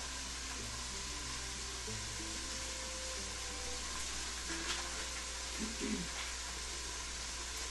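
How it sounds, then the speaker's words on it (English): Bob Evans premium Italian sausage sizzles steadily in a pan as it is broken up, a constant frying hiss with a few soft scrapes and stirring knocks near the end. "So I'm breaking up the sausage as it's cooking down."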